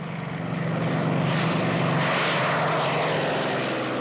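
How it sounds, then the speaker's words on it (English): German WWII fighter aircraft engines, such as the Messerschmitt Me-109 and Focke-Wulf 190, roar in a loud, steady droning rumble that swells slightly at the start and then holds, with no voices. "The German fighter planes"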